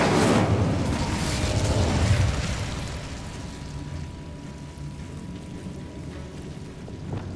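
Fire spell Incendio cast in Hogwarts Legacy on PS5: a loud, booming burst of flame opens, roaring for about two seconds, then settles into a lower crackling rumble.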